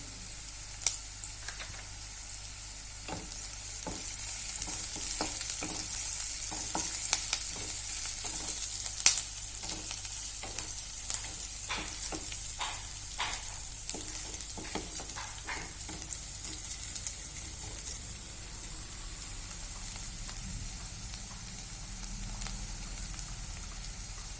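Onion sautéing in a pan with garlic, ginger and cumin paste, a steady soft sizzle with scattered crackles and pops and occasional spoon scrapes, close and fairly quiet with a low hum underneath.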